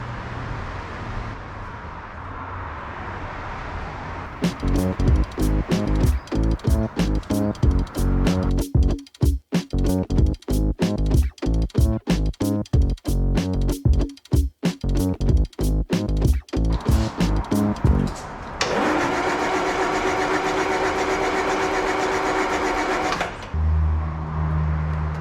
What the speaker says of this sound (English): so the engine turns nicely, which is awesome